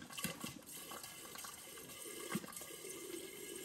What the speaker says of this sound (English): now the water start to come out